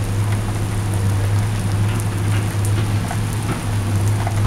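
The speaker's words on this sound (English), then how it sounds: "And now it's raining." Steady rain falls around a motorcycle carrying a Spitz, a dense continuous patter close by with a constant low hum underneath and no talking.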